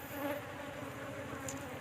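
Honey bees buzz around a hive box, a faint steady droning hum with a brief closer pass near the end, no voices.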